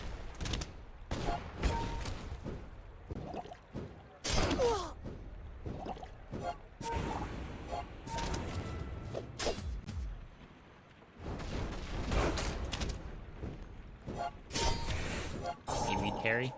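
Submarine shots and torpedo fire in a video game come as a dense run of sharp bursts and crashing impacts, loud and close, layered with other game effects and talk.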